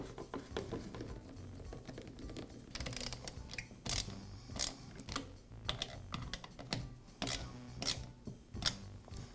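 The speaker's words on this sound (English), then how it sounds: "And now I can secure the base with the nuts and the screw." Small metal nuts and a screw being fastened onto the air filter base of a Poulan chainsaw, heard as close, steady bursts of tapping, clicking and ratcheting with no talk.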